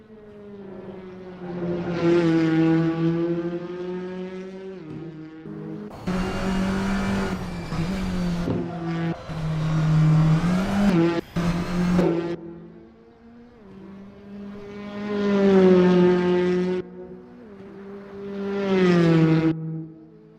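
A touring race car in the iRacing sim revs up and down through the gears, engine note rising and falling in long sweeps, echoing off walls, buildings and embankments, with loud bursts of harsher, rougher engine noise between the sweeps.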